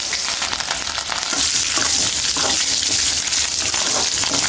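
Chana dal, urad dal, garlic, curry leaves and coriander fry in hot oil for a tempering, a continuous loud crackling sizzle with faint stirring throughout, close and steady.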